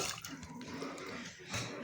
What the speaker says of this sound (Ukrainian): Заливаю сюди холодною водою.